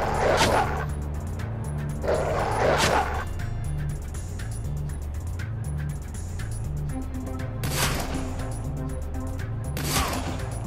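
A dog barks a few times within the video game Shadowrun Dragonfall, short sharp yaps recurring at intervals over a low, steady game soundscape with a faint repeating tone, no talk heard.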